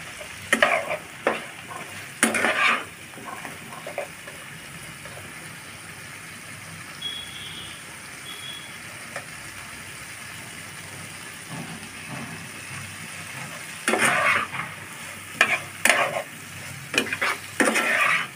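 Spice paste for a hilsa fish curry, with potatoes and pointed gourd, sizzles steadily in a pan, while a spoon scrapes and clatters against the pan in bursts at the start and end.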